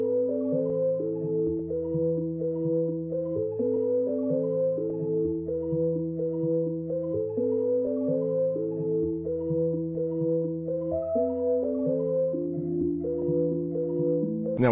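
A looping melodic sample from a beat pack plays clean, stepping tones over sustained low notes, steady and moderately quiet with no talking.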